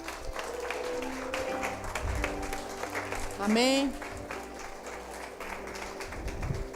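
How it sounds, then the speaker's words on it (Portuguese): A church congregation applauds the Lord, a continuous wash of crowd clapping behind a preacher's voice, with a shouted exclamation rising briefly in the middle. "Dê um aplauso ao Senhor por isso."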